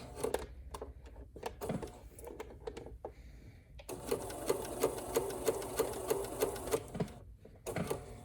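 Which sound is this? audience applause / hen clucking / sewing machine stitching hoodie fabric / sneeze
sewing machine stitching hoodie fabric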